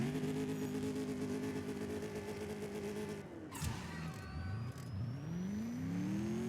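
A Mercedes AMG S 63 Coupe in the racing game CSR2, engine droning steadily and then shifting gears on nitrous, with the pitch dropping and climbing again through two quick rising sweeps, moderately loud and with no talking.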